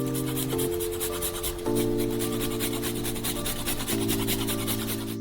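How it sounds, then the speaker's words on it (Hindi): Lots of Parmesan cheese grated over lasagna, a steady, continuous rasping rub heard up close beneath sustained background music tones, with no talking. "ऊपर से बहुत सारा पार्मेजान चीज रगड़ेंगे।"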